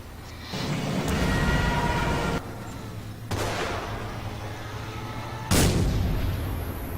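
Artillery fire in the Forgotten Hope 2 multiplayer battle on Sidi Bou Zid: several heavy booming blasts with long rumbling tails, one sharp loud crack near the end, over a constant low battlefield drone.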